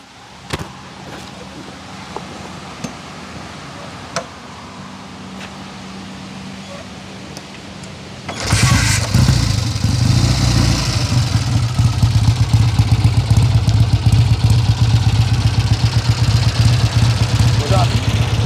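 A 1970 Triumph T120R Bonneville motorcycle fires up after a quiet stretch with a few clicks, then runs loud and close at a steady, rumbling idle for the rest of the time.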